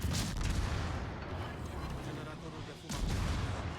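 Naval guns boom from a cruiser, the Svea, in the World of Warships game, dense low rumbling blasts rolling almost continuously with a sharper burst near the end, loud and close with engine drone beneath.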